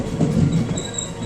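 A train rolls into Mangalore Central railway station, a close rumbling of wagons with a high metallic wheel squeal rising near the end, steady and loud with no talk.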